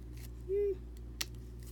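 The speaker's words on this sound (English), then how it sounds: "Snip it off. Just follow their snip lines." A pair of scissors gives one quick, crisp snip through a paper die-cut piece for a steampunk dragonfly paper craft, heard close up over a quiet room hum.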